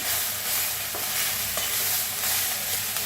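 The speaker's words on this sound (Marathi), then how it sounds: "असं मिक्स करून भाजून घ्यायचं मटकी चांगली भाजली की नाही" Moth beans roast in a pan while being stirred and mixed, making a dense, steady hiss with faint scraping and rustling throughout. The sound is close and unbroken, with no speech.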